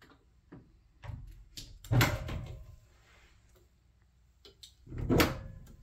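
Three-foot-wide bedroom closet doors are opened in a few distinct knocks and sliding rumbles spread over several seconds, close by and fairly quiet, with no talking.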